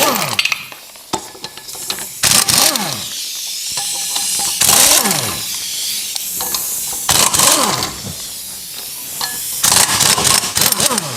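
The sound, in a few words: air impact gun removing car wheels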